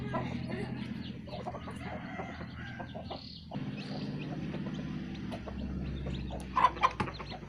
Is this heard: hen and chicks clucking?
yes